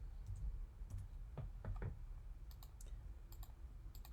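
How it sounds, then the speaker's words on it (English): Soft clicks of a computer keyboard come in short, irregular bursts of keystrokes at close range over a low room hum, with no talking. "I'm actually going to type in body."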